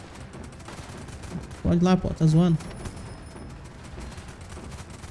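Machine gun fire in the Northend Tower Defense video game, two short rapid bursts in the middle over low background game noise, with someone talking briefly.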